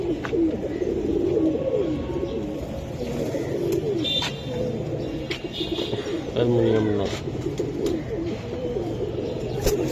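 Pigeons coo close by, including giraffe-neck Hammer and silver-type birds, their soft throaty calls repeating beneath near constant conversation against a busy background.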